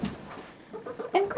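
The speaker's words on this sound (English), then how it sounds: "Come on, let's look for the other chickens." Rhode Island Red chickens out in a snowstorm give a brief burst of close, loud clucking, quiet at first and then a few sharp calls.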